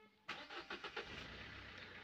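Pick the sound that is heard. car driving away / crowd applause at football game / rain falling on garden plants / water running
car driving away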